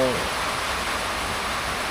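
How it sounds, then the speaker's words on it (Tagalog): Heavy rain pours down at a building site in Palawan, a dense, continuous hiss of downpour with a brief voice fragment at the very start. "Lakas ang ulan."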